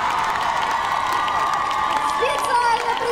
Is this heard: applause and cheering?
yes